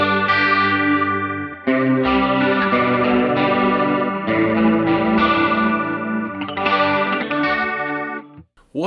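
A guitar runs through a Line 6 Helix Liquifier stereo chorus, a double chorus effect, giving a thick, shimmering sustained tone over several chord changes, loud and alone without speech.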